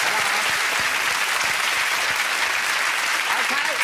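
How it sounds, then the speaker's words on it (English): Game show studio audience giving a steady, dense round of applause, loud and continuous throughout with no speech over it. "Debbie, give her a round of applause."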